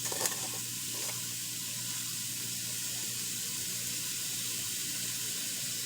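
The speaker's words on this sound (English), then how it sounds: "Let's get that in the frying pan." Pork steak sizzling in a frying pan, a steady close hiss and crackle throughout, loudest at the start and then even.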